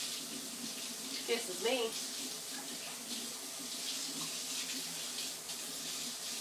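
Kitchen tap water running steadily while mixer beaters are rinsed under it, a faint continuous hiss with a person speaking briefly over it.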